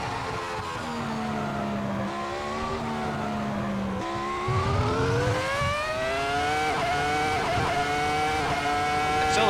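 A Ferrari F2004 Formula One car in a racing sim screams at high revs near its 18,750 rpm limiter at about 194 mph on the Monza straight, a steady, loud, rising engine whine with a brief gear-change dip partway through.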